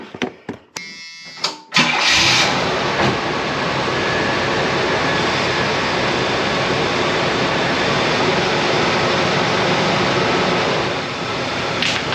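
A vehicle engine cranks with a few brief stuttering turns, then starts and settles into a loud, steady, roaring idle that runs close by for about ten seconds before easing slightly near the end.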